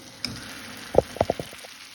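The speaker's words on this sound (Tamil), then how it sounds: "இன்றைக்கி வந்து உங்களுக்கு தாளித்து காமிக்கிறேன்" Ground tomato pickle tempering in hot oil gives a short burst of sharp crackles and sputters, several quick pops clustered together over a faint low background hiss.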